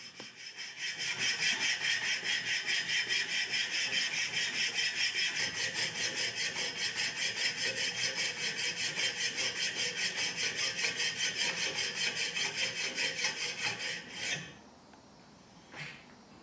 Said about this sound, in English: Draw file the blade to create a clean and flat surface.